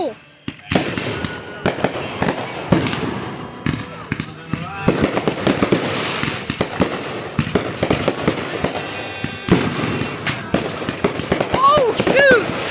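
Flashbangs or firecrackers burst in rapid, irregular volleys, loud sharp cracks and pops piling over one another almost nonstop, with excited voices mixed in among the blasts.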